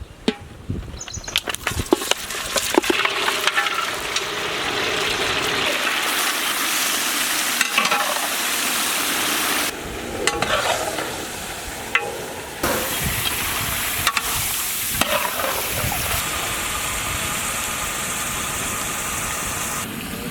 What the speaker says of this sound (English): We need to cook this meat in the ghee to get nice flavorized brown color in slow flame.